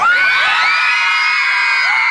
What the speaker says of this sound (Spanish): ¡Las mujeres que griten más fuerte!